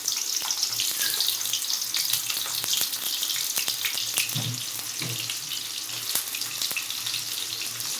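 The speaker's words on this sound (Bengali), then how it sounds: "পেঁয়াজ, কাঁচামরিচ একই সাথে ভেজে নেব।" Onions and green chillies frying in a pan, a continuous bright crackling sizzle with occasional sharp pops and light stirring knocks, no voices.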